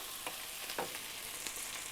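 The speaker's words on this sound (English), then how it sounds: "Now I keep stir frying it on a very high flame," Steady, loud sizzling of chicken stir-frying in a hot pan on a very high flame, with a few brief scraping stirs breaking through the constant hiss.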